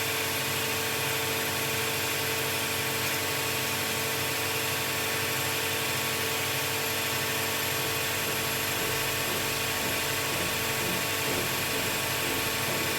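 An idling Mercedes OM606 diesel engine runs rough with cylinder five cut off, a dense, steady, loud mechanical drone with no speech over it.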